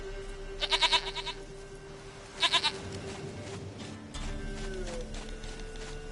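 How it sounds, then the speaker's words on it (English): Goat bleating in The Witcher 3: Wild Hunt, two short bursts of quavering bleats over a steady game ambience with a low drone, fairly clear and close. "Goat of mine, dearest, sweetest goat."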